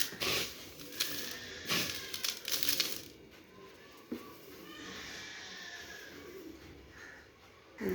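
Freshly fried flattened rice (chira) poured out of a kadai rustles and crackles in short bursts at first, then settles into a faint, continuous crisp crackle.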